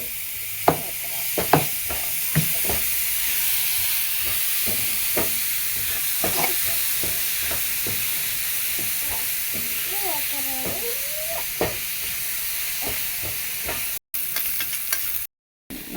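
Tomato dropped into frying macaroni masala sizzles in a pan under repeated sharp spoon scrapes and clicks as it is stirred, with a brief bit of background voice partway through and short dropouts near the end.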